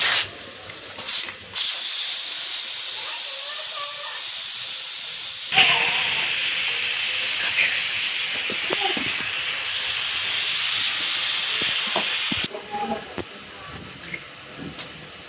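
A pressure cooker full of cooking paya (trotters) vents steam in a loud, steady hiss that lasts about seven seconds, with quieter rustles and clatter before and after.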